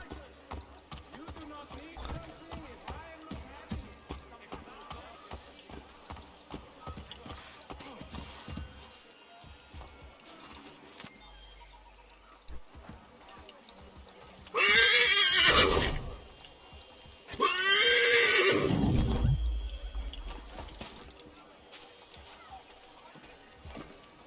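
A horse gallops past with two loud bursts of hoofbeats and whinnying over a steady bed of game music and ambient noise in Assassin's Creed III Remastered.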